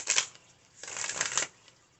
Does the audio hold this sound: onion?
no